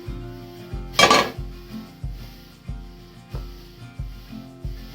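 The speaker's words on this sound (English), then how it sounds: "We're going to give that a stir." A spoon stirring rosemary dumplings with chicken in a pot, with rhythmic scraping clanks roughly every half second and one louder metallic rattle near the start, close and without voices.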